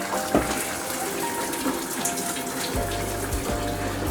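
Brown rice rinsed in a sieve under a running tap: a steady close gush of water with splashing and a low rumble throughout.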